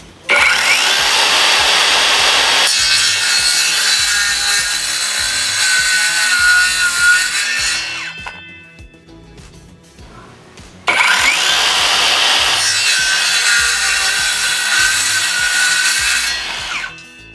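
A cordless brushless 165mm Akaido circular saw rips through 18mm FJB rubber wood in two loud, sustained cuts, its whining motor spinning down in a short pause between passes.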